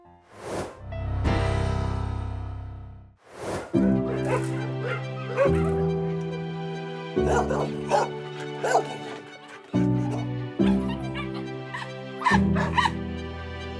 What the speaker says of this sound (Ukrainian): А Лука песик, в якого є ПТСР.